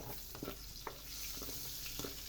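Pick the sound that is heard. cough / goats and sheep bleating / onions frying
onions frying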